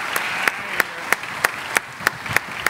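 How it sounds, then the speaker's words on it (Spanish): Sparse, evenly spaced claps from an audience at the Festival Cultural Sinaloa concert, a steady single-beat rhythm roughly three times a second, moderately loud over a quiet hall. "Pido un aplauso, por favor,"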